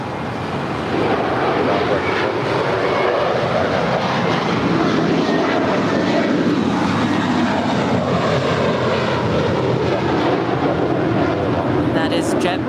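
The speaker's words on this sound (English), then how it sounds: "That is JetBlue 324 off to JFK" A JetBlue airliner departs Los Angeles International for JFK with a loud, close jet engine roar, its tone sweeping as it rolls and lifts off, while voices talk over it.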